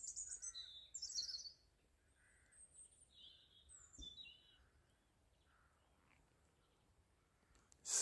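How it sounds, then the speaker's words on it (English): Scattered bird chirps and whistled calls, fairly faint and intermittent in quiet countryside at dusk in early March, with a louder burst near the end. "let's just take a moment to listen to the sounds of the birds in the countryside"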